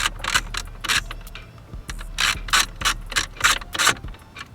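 Screws are backed out of a Chevy steering wheel with a ratcheting tool, producing close, crisp bursts of mechanical clicking in an uneven rhythm, with brief pauses between strokes.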